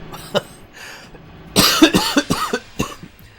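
A burst of several harsh, raspy coughs up close, following a quieter stretch of breathy background noise.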